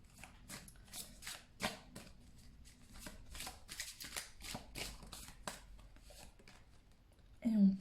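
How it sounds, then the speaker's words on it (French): Tarot cards handled and shuffled up close, a run of quick papery flicks and slaps with short pauses, ending in a louder thud as a card is drawn and placed. "Je vais prendre une carte ici pour vraiment conclure"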